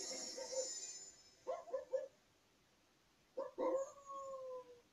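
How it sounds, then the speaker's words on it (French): Video game dog barking and yipping when a treasure chest is found, two short clusters of bright barks with a whining howl, fairly clear and isolated. "C'est normalement quand on trouve un coffre, il aboie en fait."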